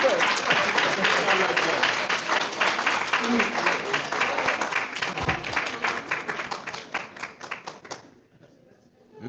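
An audience at the 2024 Pinnacle Awards ceremony applauds in a dense, steady wash of clapping that stays loud for about eight seconds and then stops abruptly, leaving near silence.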